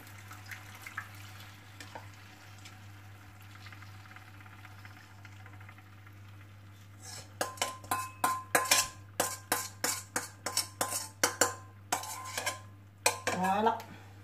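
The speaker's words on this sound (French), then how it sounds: "on va rajouter un peu d'eau et mélanger un peu pour mettre sur les côtés de tagine" Metal utensil scraping and clinking against a tagine pot while stirring a meat marinade sauce with a little added water, a quick series of sharp, close clatters starting after a quiet stretch and continuing in an uneven rhythm.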